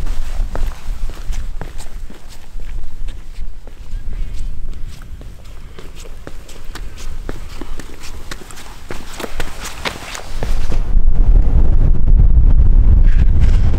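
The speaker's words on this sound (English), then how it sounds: "It's windy for sure today." Strong wind on the Nepal Three Passes trek near Everest buffets the microphone with a loud, rumbling roar that swells near the end, mixed with crunching footsteps.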